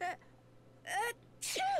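A character in the Nancy Drew game Ghost Dogs of Moon Lake sneezes in a dusty room, three short, close sneezes with pauses between them.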